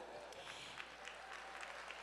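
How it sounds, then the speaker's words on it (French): Distant, faint applause from a seated crowd at an evening ladies' event honouring a jewellery shop team, a steady wash of many hands clapping without break. "on peut se permettre de les applaudir"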